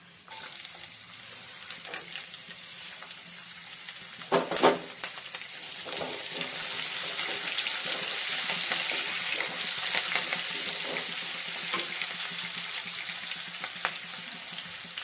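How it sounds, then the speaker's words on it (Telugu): Mustard seeds, cumin, ginger pieces and green chillies fry in hot oil, with a steady close sizzle that swells midway and occasional stirring scrapes and clinks. "ఆవాలు జీలకర్ర వేగాక అల్లం ముక్కలు, పచ్చిమిర్చి ముక్కలు సన్నగా తరిగి పెట్టుకున్నాను, ఇవి కూడా వేసేద్దాం"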